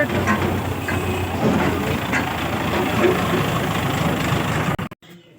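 A small Mahindra Yuvraj 215 tractor engine idles with a steady, close diesel rumble that runs unbroken until it cuts off abruptly near the end.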